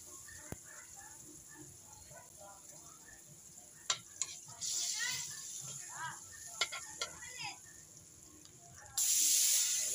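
Garlic meets hot oil in a pan for sautéing vegetables, breaking into a loud hissing sizzle after scattered ticks and clinks, then a second burst of sizzling, with a person talking nearby.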